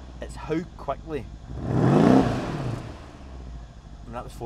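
A Mercedes-AMG E63 twin-turbo V8 in a W212 saloon revs up to about 4,000 rpm in a single loud swell that builds and fades over roughly two seconds, with talk before and after.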